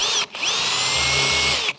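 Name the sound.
drill bit drilling through aluminium boat mount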